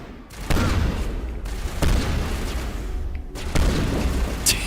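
Shotgun blasts in Mass Effect, four loud booming shots spaced about a second apart, each with a short rumbling tail, close and alone.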